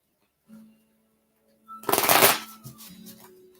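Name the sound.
shuffling tarot cards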